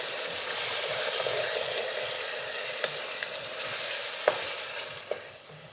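Marinated chicken frying in a pan for a whole wheat chicken spaghetti dish, a continuous loud sizzle with a few soft clinks from stirring.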